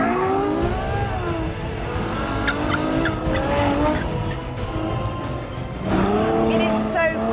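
A Ferrari F12 Berlinetta is driven hard on a test track, its engine revving and shifting loudly up close while tires squeal and skid. A voice talks briefly beneath the engine noise.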